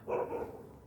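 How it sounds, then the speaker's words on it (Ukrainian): Dog giving a single short bark nearby, a quick muffled woof followed by faint room tone. "Ой, собачка."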